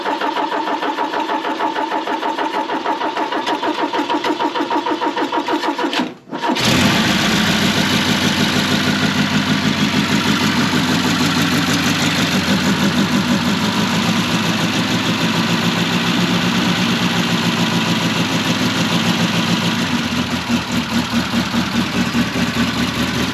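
Vintage Ford Capri race car engine cranks briefly, cuts out for a moment, then fires and settles into a loud, steady, rough idle that continues close by without letup.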